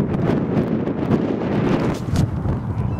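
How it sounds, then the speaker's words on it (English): Strong wind buffets the microphone on a coastal walk between Rhuddlan and Rhyl, a loud continuous low roar with gusty swells throughout, no voice heard. "If you can hear me, the bloody wind is breezy."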